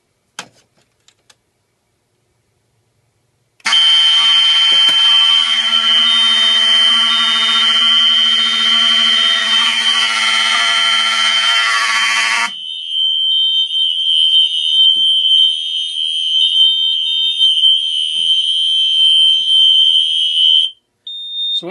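A fire alarm system, set off by a magnet held to a heat detector, starts with a continuous loud, shrill electronic tone, then changes to a steadier high-pitched sounder that keeps going for about eighteen seconds before stopping abruptly.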